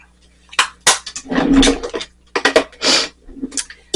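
A NYX Buttermilk blush compact in the shade All the Butter is handled and opened close up, giving a string of sharp plastic clicks and knocks with short pauses between them, and no voice.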